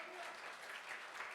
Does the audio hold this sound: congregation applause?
yes